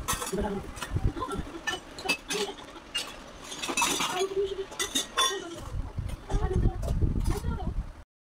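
Stacked steel dishes clink and clatter as they are set upside down on a rack to dry, with repeated close metallic knocks while a person talks over them.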